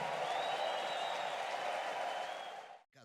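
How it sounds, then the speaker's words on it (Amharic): A church congregation bursts into applause with a wavering high ululation riding over the dense clapping, loud and sustained before cutting off abruptly near the end. "እልልታ ጭብጨባ ምስጋና"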